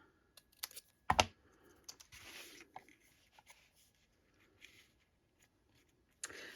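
Scissors or a trimmer cut paper card for a paper pumpkin craft, with a sharp close snip early on followed by quieter rustling and small clicks.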